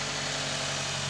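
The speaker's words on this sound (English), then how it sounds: "the motor is running really healthy here" A Subaru WRX engine at a steady idle, a smooth and constant hum heard up close, with an even tone and no other sounds over it.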